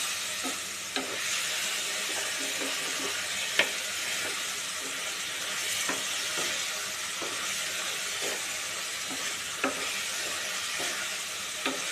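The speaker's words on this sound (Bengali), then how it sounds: "মশলাটা একটু কষাবো কষিয়ে তেল আর মশলা আলাদা হয়ে গেলে মশলা একটু ভাজা ভাজা হবে" Masala spice paste frying in oil for a prawn and mukhi kochu (taro) curry, a dense steady sizzle close up, with regular scrapes and taps of a stirring spoon against the pan.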